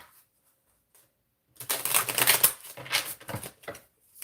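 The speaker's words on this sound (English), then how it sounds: "I'm going to pull that card." A tarot card pulled from a deck in a quiet ASMR setting: after a near-silent pause, close papery rustling and soft card slides crackle for a few seconds in uneven bursts.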